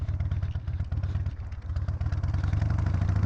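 A chopper motorcycle with a big rear tire idling close by, a loud lumpy engine throb with rapid regular pulses that swell slightly toward the end.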